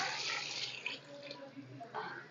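Water is poured into a pressure cooker holding lentils, a close, steady splashing gush with small shifts in tone as the pot fills, with someone speaking quietly over it.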